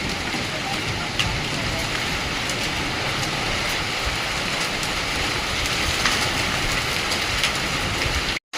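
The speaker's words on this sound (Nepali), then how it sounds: "केते जोर वर्षा ओहो पूरा कुआपथर पड़ी" Heavy rain with hailstones pounding down outdoors during a violent storm, a dense continuous roar of impacts at close range that cuts off abruptly at the end.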